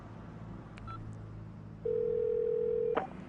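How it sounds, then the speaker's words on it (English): A steady telephone dial tone starts partway through during a call to a paramedic and holds clear and loud for about a second before a click cuts it off, with quiet room noise beforehand. "Phone Rainbow and I'll phone Jenny."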